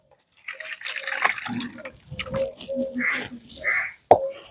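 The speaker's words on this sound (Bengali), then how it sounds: "তারপরে ছানার জলটা সমেত ছানাটাকে ঢেলে দিচ্ছি" Chhena and its whey poured through a cotton cloth over a perforated bowl while making sandesh, a close liquid splash and gush with drips and a sharp clatter near the end, no talk.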